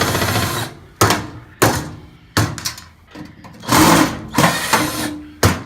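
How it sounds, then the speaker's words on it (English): A power drill driving screws whirs in several short bursts, each starting abruptly and winding down, with brief pauses between them, close and loud. "when the drill does that, sometimes you end up stripping out the screw"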